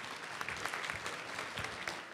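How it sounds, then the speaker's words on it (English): Audience applause in a university room during an organizational excellence session, a dense steady patter of many hands clapping at moderate loudness with no speech over it. "Again, round of applause."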